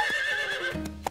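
A cartoon horse lets out a shrill, wavering neigh that fills most of the second, followed by a couple of brief thumps near the end, heard close and clear without talk.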